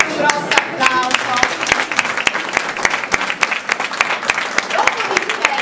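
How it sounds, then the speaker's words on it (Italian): An audience claps at a school inauguration ceremony for a new hall and laboratory, with close, loud, uneven individual claps over a steady bed of applause. Voices murmur underneath. "E io chiedo per questo un grosso applauso."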